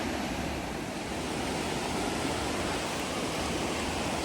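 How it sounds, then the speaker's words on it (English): Rushing river flowing far below a cliff in a Pacific Northwest rainforest, a steady, dense broadband roar of moving water without break, heard from above at a distance. "So there's the river down below, but I don't think I can get down there."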